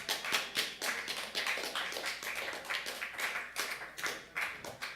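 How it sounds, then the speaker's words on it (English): Scattered hand claps from a modest audience welcome a saxophone player at a jazz performance, sounding fairly quiet and somewhat distant, with individual claps standing out in an uneven rhythm. "Please have a warm applause for Ori."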